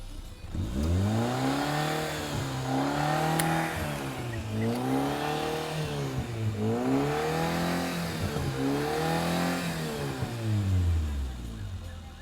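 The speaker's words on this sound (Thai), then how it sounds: "เรามาลองฟังเสียงเครื่องยนต์กันดีกว่าครับ" A 1995 Toyota automatic's LPG-fitted engine is revved repeatedly, rising and falling in pitch in several smooth sweeps, close and steady, with faint talk underneath.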